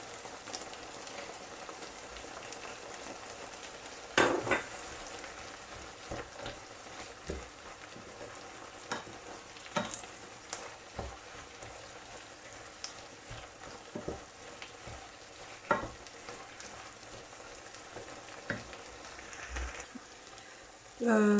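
Chicken with fresh coriander sizzles and is stirred in a pan for curry tacos, a soft continuous crackle broken by scattered utensil clicks and scrapes, heard up close.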